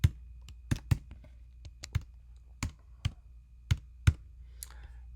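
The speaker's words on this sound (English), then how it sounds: "So let me type the right password." Password keystrokes on a computer keyboard, about ten distinct clicks spaced irregularly over a few seconds, close and clear in a quiet room.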